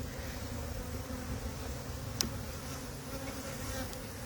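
Honey bees drone continuously inside a hive with queen cells present, a dense, steady buzzing with one brief sharp click partway through and no voices.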